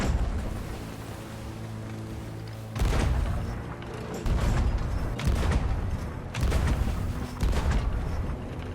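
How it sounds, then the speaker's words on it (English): Cannon fire in the pirate game Sea of Thieves, including chain shots at a ship's mast: three heavy booming blasts with rumbling tails, following a steady background of game ambience and music. "The sound of my cannon fire rumbled through the skies and the wooden body of their boat."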